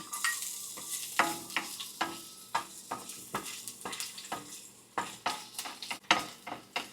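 Garlic sautéing in hot oil, with a steady sizzle broken by repeated scraping and stirring strokes of a utensil against the pan, close and moderately loud, no talking.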